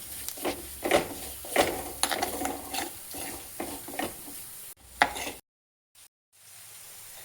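A spoon stirs turmeric, garam masala and other spices in a hot pan for a red chemballi fish curry, giving repeated scraping and sizzling strokes, then a short pause and near silence at the end.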